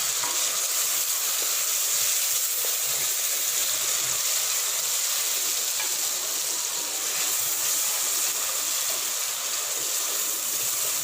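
Chicken masala with onions and tomatoes fries in a pan, giving an even, loud, hissing sizzle that runs unbroken throughout with faint stirring beneath.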